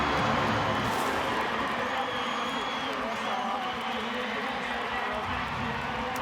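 Rugby league stadium crowd at an NRL match between the Raiders and Knights, a dense, sustained roar of cheering from a large audience, steady and loud throughout with no single voice standing out.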